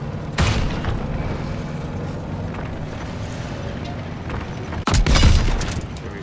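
A tank cannon fires at the flank of a Panzer in Call of Duty WW2. There are two heavy booming blasts, one near the start and a louder one about two thirds through, over a low rumbling battle background.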